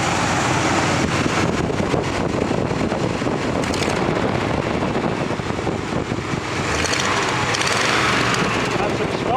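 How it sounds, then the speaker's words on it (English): A 1967 Buick Riviera engine runs loud and close throughout, a dense continuous roar with revving swells, alone without talk. "I'll rev it up a little bit."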